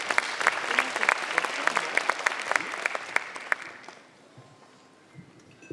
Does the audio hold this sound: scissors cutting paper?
no